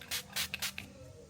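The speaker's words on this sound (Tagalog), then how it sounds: "But we'll just spray it." Stain remover sprayed onto fabric in four quick hissing bursts from a trigger bottle, close and crisp, the last two shorter, followed by a quiet pause.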